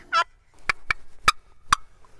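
Box call worked by hand to imitate a wild turkey: a raspy yelp burst, then four short, sharp clucks spaced apart, close and fairly loud.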